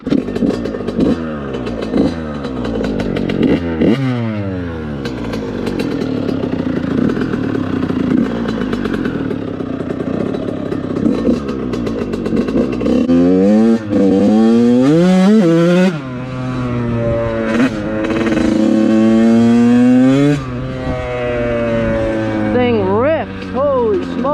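Yamaha YZ85 two-stroke dirt bike fitted with VForce4R reeds, an FMF SST pipe and shorty silencer, ridden on a street, revving loud and close with repeated rising and falling throttle sweeps and gear changes throughout.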